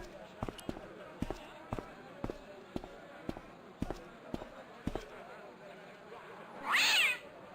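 Cat meowing in the point-and-click game Broken Sword: Shadow of the Templars, one short loud meow near the end after a run of regular sharp tapping sounds.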